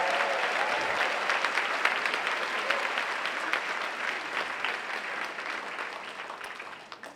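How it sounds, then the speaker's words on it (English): An audience at a women-in-leadership awards gala gives the honorees a warm round of applause, full steady clapping that gradually thins and fades toward the end. "Can we just please give all of our honorees another round of applause?"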